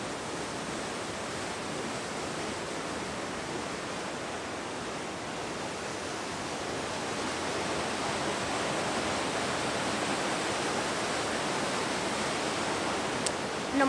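Mountain stream water rushing along a Mainalon trail, a continuous dense hiss of flowing water, steady and fairly close, with no voices.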